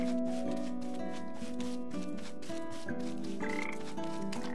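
Frogs croak continuously in a dense, pulsing chorus with tonal game-like background music in the video game Papo & Yo, steady and fairly loud throughout.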